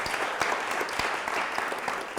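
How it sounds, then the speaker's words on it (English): Audience applause after a college lecture on social media in China: steady, even clapping from a roomful of listeners throughout the short stretch. "How about a round of applause for Dr."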